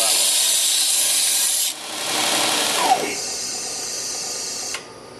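A belt sander rounds the corner of a workpiece, giving a loud, close, hissing abrasive rasp whose pitch and loudness shift as the piece is pressed and eased off, then cut short near the end.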